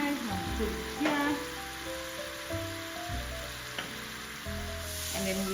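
Garlic fries in oil in a pot with a soft continuous crackle and hiss, and scattered stirring knocks on top, quiet and close with no voices.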